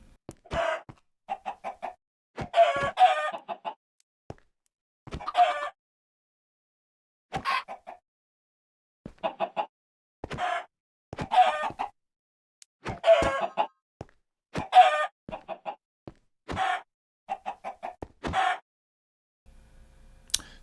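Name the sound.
chickens clucking in Minecraft video game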